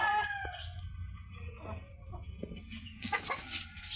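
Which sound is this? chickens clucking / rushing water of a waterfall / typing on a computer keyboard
chickens clucking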